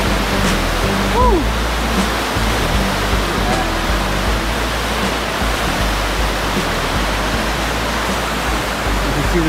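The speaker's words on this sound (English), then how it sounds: "You can see the river's really flowing." A spring river in a state park rushes with strong flow, a loud, dense and unbroken roar of water that holds steady throughout, with a faint voice briefly audible in the background.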